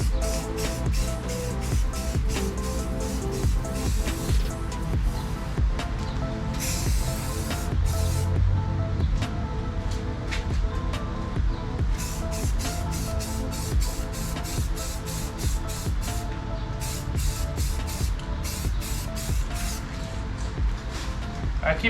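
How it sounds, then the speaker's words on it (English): A spray gun hisses steadily as it mists a light primer coat onto Corvette body panels from a few inches away. The hiss runs continuously with brief pulses, and someone talks over it. "Now the first primer is gonna be like a mist coat. So you're gonna mist it right now."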